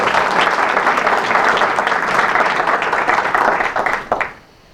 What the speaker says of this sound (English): give him an applause for that.